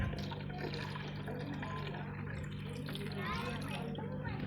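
Water is poured into a container at a rural home, a faint, steady splashing and trickling that continues under close talk.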